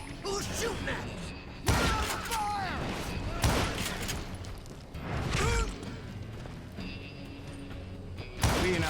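Gunshots ring out in a Wild West shootout in Call of Juarez Gunslinger, several sharp loud cracks spaced a few seconds apart with echoing tails, while voices talk between the shots.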